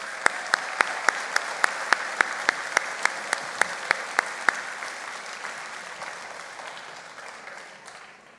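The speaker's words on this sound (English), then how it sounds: "One more round of applause." Applause from a convocation audience honoring the graduating class of 2023, a dense steady wash of many hands clapping, loud and sustained before tapering off gradually toward the end.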